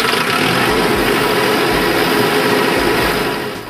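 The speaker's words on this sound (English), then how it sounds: "When the engine is running," A diesel generator engine runs steadily at close range, a loud continuous drone with a low throbbing pulse that holds throughout and eases slightly at the very end.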